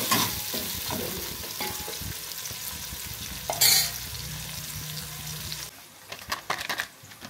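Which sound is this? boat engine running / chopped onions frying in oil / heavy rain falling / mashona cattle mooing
chopped onions frying in oil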